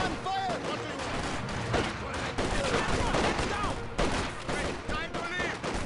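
Rapid gunfire crackles through a Company of Heroes 2 battle on hard difficulty, with overlapping shots and bursts forming a dense, loud, continuous barrage while in-game voices call out underneath.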